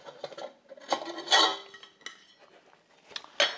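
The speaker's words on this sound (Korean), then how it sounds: "그리고 냄비 뚜껑들이 이렇게 나오게 됩니다." Metal pot lids from a Bellark Kopel Combi S9 camping cookware set clinking and clattering as they are handled, several sharp close knocks and rattles spaced irregularly, with quiet gaps in between and no speech.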